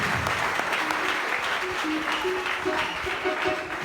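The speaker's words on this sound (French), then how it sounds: "Applaudis maintenant, applaudis maintenant" Congregation clapping in a church, a steady wash of applause running throughout at moderate level, with a faint tonal voice or music line threading through it.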